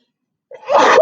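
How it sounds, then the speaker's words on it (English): A single close sneeze from a man, a short intake of breath followed by a sharp, loud burst that holds briefly at the end. "Oh, I have to sneeze."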